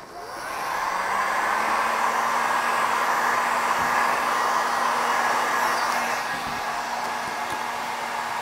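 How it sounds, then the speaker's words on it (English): A heat gun blows a steady, loud whooshing roar while it warms the corners of Surfex interior vinyl film on a kitchen cupboard door. The airflow ramps up within the first second and stays constant throughout. "I'm just going to put my wrapping glove on and heat the corners up"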